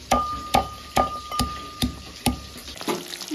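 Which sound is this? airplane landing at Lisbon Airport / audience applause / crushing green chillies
crushing green chillies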